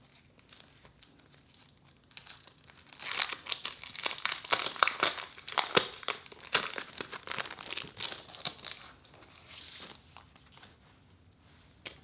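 Plastic or paper wrapping on a hobonichi planner package crinkles and tears as it is opened, a steady close-up rustle that swells into dense crackling bursts, then fades to softer handling.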